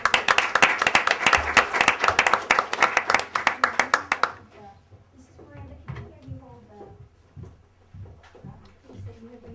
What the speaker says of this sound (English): I heard the applause